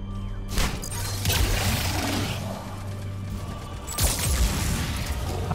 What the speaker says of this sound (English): I think that created an explosion!